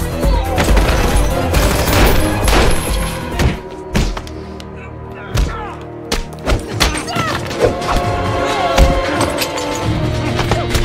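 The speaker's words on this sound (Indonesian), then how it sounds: "Don berhasil menyelamatkan Roma dari tembakan musuh" Bursts of gunfire crack and thud over a dense, loud film soundtrack, with scattered sharp impacts and some voices mixed in.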